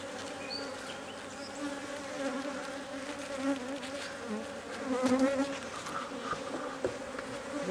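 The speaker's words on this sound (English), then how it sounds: "this hive has swarmed twice already, and they're bound determined to swarm again because there's so many bees here" Honey bees buzz steadily and densely around an open hive during an inspection, a continuous close hum that swells and fades slightly without any talk.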